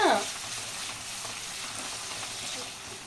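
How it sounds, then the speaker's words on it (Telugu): Onions fry in oil for a prawn curry with a steady, even sizzle heard up close; a brief voice sounds at the very start, then the frying continues alone. "ఆనియన్స్ కొంచెం ఫ్రై అయినాయండి"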